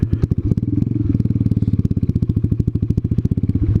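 A scooter-style motorcycle idles and pulls away, its single-cylinder engine thumping in a rapid, even pulse that stays close and loud throughout.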